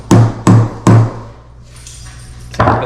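A hammer taps a center punch set into a hole, three sharp close strikes in quick succession followed by a pause and a fourth tap.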